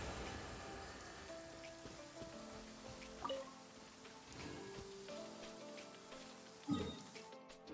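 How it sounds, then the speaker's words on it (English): Steady, moderate rain falling in a courtyard in the video game Genshin Impact, a continuous patter and drip with occasional louder splashes, a soft melodic tone threading beneath it, and no voices. "I love listening to the rain from the courtyard."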